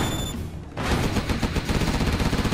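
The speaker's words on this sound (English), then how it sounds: "Gun barrel spinning. Keep the bullets flowing." Sustained Gatling gun fire from the video game Command and Conquer Generals, a dense rapid stream of shots that briefly pauses, then resumes loud and continuous without talk.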